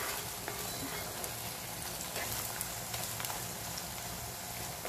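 Onions frying in a pan for a whole-spice chicken curry, a steady close sizzle and crackle with faint occasional stirring taps, no voices.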